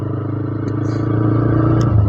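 Steady low engine drone of a TVS Raider 125cc motorcycle being ridden, a constant hum building slightly in loudness, with faint wind and rattle.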